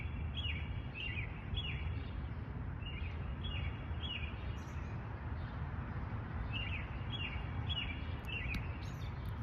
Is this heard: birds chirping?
yes